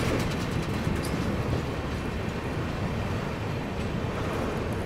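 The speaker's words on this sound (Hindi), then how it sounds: "ट्रेन अपनी पहुँच रही है मिर्ज़ापुर।" A Magadh Express passenger train runs along the rails on its way toward Mirzapur, giving a steady, loud rumble and rattle of rolling wheels that stays even from start to finish.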